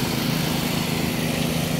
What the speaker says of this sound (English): They're drilling holes.